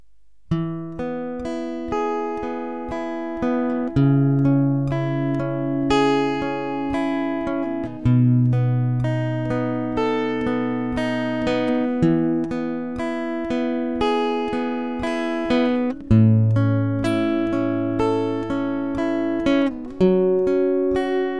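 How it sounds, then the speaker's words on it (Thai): Slow strummed guitar chords from the second verse of a Thai song. The chords ring out clearly and alone in an unhurried rhythm, with no singing or talk. "เดี๋ยวไปฟังเฉพาะเสียงกีตาร์แบบช้าๆในท่อนร้องท่อนที่สองกันครับ"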